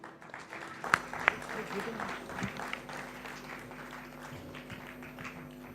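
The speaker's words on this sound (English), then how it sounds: "Please give them a big round of applause to the Hosur team." Audience applause at a regional convention awards ceremony of a men's service club, a sustained wash of clapping with a couple of sharp louder claps near the start, steady and moderately loud throughout.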